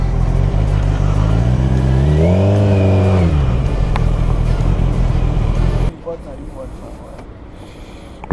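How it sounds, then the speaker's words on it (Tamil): A vehicle passes close on a rainy road, its engine note rising and falling loudly for a couple of seconds over steady rain and rushing wind noise before the sound cuts down abruptly. "ஏதோ ஒரு வண்டி இருக்குதுப்பா"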